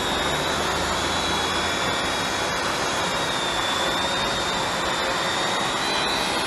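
A Holy Stone HS120D GPS drone in flight, a continuous high-pitched whine of small spinning propellers with a steady tone, loud and unbroken throughout.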